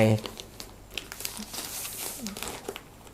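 Plastic packaging around a mouse pad from an unboxed limited box set crinkles and rustles up close in short handling bursts, with a voice heard briefly at the start.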